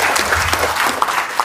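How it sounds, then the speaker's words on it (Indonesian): A crowd claps steadily and fairly loudly, a dense patter of applause filling the whole moment. "Tepuk tangan dulu"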